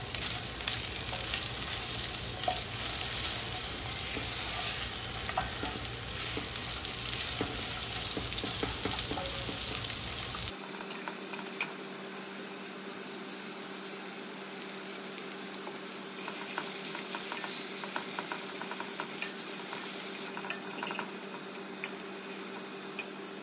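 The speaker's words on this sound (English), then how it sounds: "To this we'll add the sliced onion. And we'll fry it till golden brown." Sliced onion fries in a pan of hot oil, a loud dense sizzle throughout that drops to a softer crackle with a steady low hum partway through.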